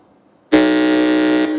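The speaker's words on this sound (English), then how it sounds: "let's hear the sound from the buzzer for Universal International School." A single loud electronic quiz contestant buzzer blares for about a second after brief quiet, a steady harsh tone that cuts off abruptly.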